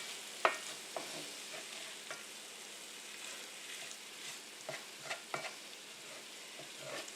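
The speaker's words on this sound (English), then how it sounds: "Now we're just going to stir this up a bit until the cheese melts in." Hamburger meat and cheese stirred in a cast iron pan over low heat: a steady soft sizzle with scattered scraping clicks from the spoon, one sharper knock near the start, fairly quiet and with no talking.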